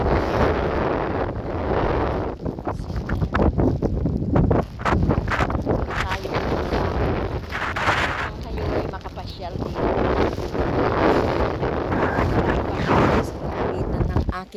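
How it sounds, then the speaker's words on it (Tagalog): Strong wind buffets the microphone outdoors beside water where fish are being fed, a continuous gusty roar with a person talking over it at times. "Ah, medyo mahangin nga."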